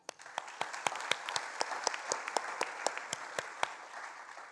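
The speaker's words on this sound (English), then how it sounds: "please give them a round of applause" Audience applause at the Sunshine Coast Australia Day Awards ceremony 2022, a steady crowd clapping with one nearby pair of hands striking sharp, evenly spaced claps on top throughout.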